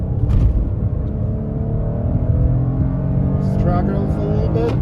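A 2022 SUV, either a Toyota Highlander or a Nissan Pathfinder, accelerates on the road, with engine drone rising steadily under road and cabin noise at moderate loudness from inside the vehicle.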